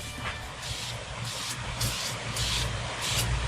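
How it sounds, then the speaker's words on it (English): A can of heavy-duty silicone spray hisses in several short, close bursts, one after another, over a steady background rumble, during fuel rail pressure sensor work on a 2005 Mercury Mountaineer. "Got some heavy duty silicone that I'm going to spray on here."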